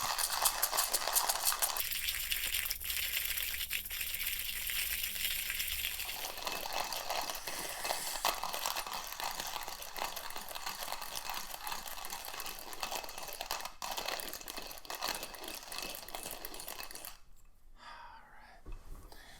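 A burr grinder grinds coffee beans for pour-over, a steady close whirring and rasping that runs for most of the stretch before cutting off near the end.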